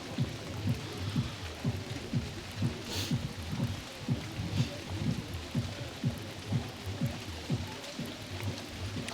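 Rain falls steadily on an outdoor shooting range at a youth competition in Catez, a soft continuous patter, with faint distant rumbles and regular low thuds repeating throughout.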